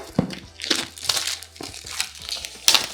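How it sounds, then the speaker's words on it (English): Plastic wrapping being pulled and crinkled off a Google Nest Audio smart speaker box, close and fairly quiet, with sharp bursts of crackling and tearing separated by short pauses. "get the plastic off"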